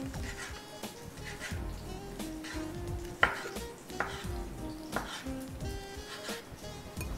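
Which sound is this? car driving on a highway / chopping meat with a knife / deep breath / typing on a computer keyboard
chopping meat with a knife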